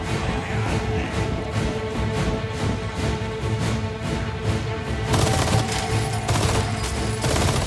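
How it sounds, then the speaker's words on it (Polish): Full-auto weapon fire in the video game Resident Evil 4 Remake rattles out as rapid, dense bursts of gunshots, and a louder, heavier stretch of fire starts partway through. "Dobra, nie walmy aż tak super wielkiego full auto."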